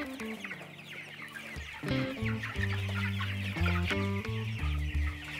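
Broiler chickens inside a poultry house in The Gambia cluck close by in overlapping, repeated calls that grow louder after a quieter opening.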